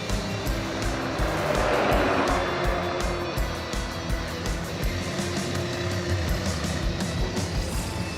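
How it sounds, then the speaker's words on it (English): An AMC Pacer on an off-road road trip drives along with a steady loud engine and road roar, a rubbing, scraping tire drone running underneath the whole time. "Oh, tire rub. Did you hear that?"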